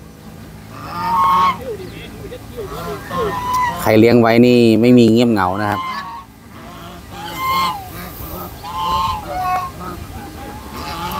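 Chinese geese on a farm honk loudly in a burst of repeated nasal calls, with someone talking before and after and more scattered honks underneath.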